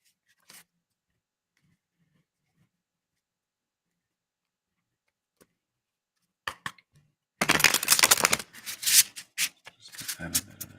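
A tarot card deck is shuffled after a long near-silent stretch, the riffles and snaps coming loud and close in dense bursts toward the end.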